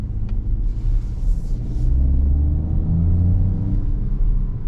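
A Peugeot 2008 PureTech petrol engine pulling in sport mode on a night drive, a low steady rumble from inside the cabin that rises in tone as the car accelerates.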